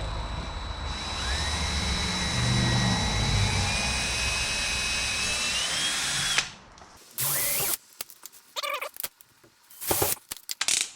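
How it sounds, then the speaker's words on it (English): A power drill with a 1/8-inch bit whines steadily for about six seconds while drilling a pilot hole to install a storm door, its pitch rising slightly before it stops, followed by close clattering and knocks. "I'm going to go ahead and drill a pilot hole since I have the"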